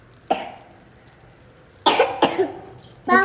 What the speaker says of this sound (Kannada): ಯಾಕೆ ಕೆಮ್ತಾ ಇದೆಯಾ?